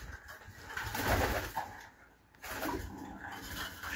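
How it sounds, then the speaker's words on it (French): Farm pigeons cooing softly at close range, a few low throaty coos rising and falling over about four seconds, with a brief quieter gap in the middle. "chez les pigeons"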